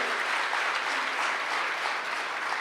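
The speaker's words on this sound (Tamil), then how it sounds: "அவருக்கு ஒரு கைத்தட்டல் கொடுங்க." Dense, steady applause from an audience at a Tamil talk event in Sydney, a continuous wash of many hands clapping at even loudness throughout.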